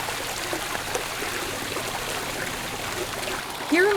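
Steady broadband rush of a garden waterfall beside a swimming pool in a Carolina landscape, a continuous splashing trickle that holds even throughout, with a brief tonal sweep near the end.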